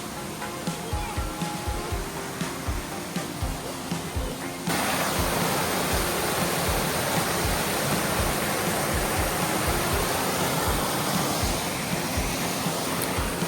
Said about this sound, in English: Peavine Falls is flowing today.